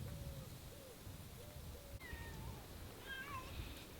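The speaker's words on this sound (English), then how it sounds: "There's Mrs. Cat" Several cat meows from a female cat roaming a vetiver field, a handful of short calls early on and a cluster of higher, wavering meows near the end, over steady low outdoor background noise.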